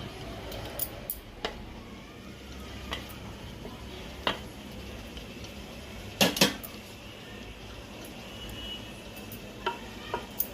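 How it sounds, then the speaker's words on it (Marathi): Cooked rice spooned into a pot for chicken dum biryani, with soft scattered clinks and knocks of a utensil against the pot over a quiet background, a few sharper taps standing out. "मंडळी आपण आता हा सगळा भात त्याच्यामध्ये घालूया."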